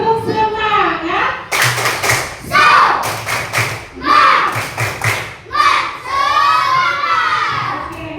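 Schoolchildren in a classroom perform the rhythmic 'tepuk semangat' clapping chant, with sharp group claps in patterned bursts mixed with loud chanted young voices, close and energetic.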